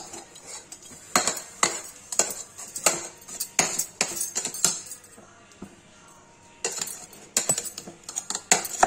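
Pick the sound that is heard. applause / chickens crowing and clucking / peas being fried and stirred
peas being fried and stirred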